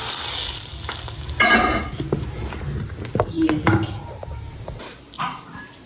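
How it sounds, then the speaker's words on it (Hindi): Hot oil sizzling and crackling loudly as a tempering hits it, with stirring clinks of a utensil against the pot; a voice speaks briefly underneath. "ये देखिए दाल अच्छे से तड़का लगाएंगे।"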